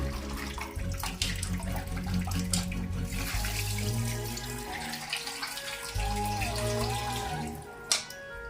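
Water runs steadily from a tap into a sink while raw chicken is rinsed and handled under the stream, with occasional clinks and splashes.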